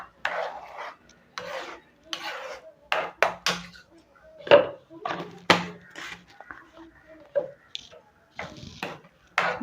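Rava kesari mixture is stirred in a pan, with intermittent scraping and rubbing strokes close by in an irregular rhythm and quiet gaps between them.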